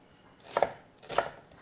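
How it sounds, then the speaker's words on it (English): A knife chopping vegetables for chili on a cutting board, two quiet close thuds about half a second apart. "Maybe just chop it up a little bit more."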